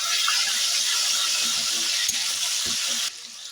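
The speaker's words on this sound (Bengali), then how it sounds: "আদা কাঁচা লঙ্কা থেকে কাঁচা গন্ধটা চলে যাওয়া পর্যন্ত একটু ভাজা ভাজা করে নিচ্ছি।" Ginger and green chili paste sizzles and fries in a pan for vegetarian Kashmiri aloo dum, a steady close crackle with a couple of stirring knocks, then briefly quieter near the end.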